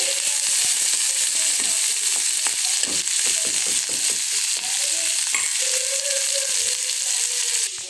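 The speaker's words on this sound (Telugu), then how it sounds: "ఇవి బాగా ఫ్రై అయిన తర్వాత అరటికాయ ముక్కలు యాడ్ చేసుకోవాలి." Raw banana pieces fry in a spiced tempering for a banana curry, giving a continuous loud sizzle broken by repeated scraping, clattering strokes as they are stirred in the pan.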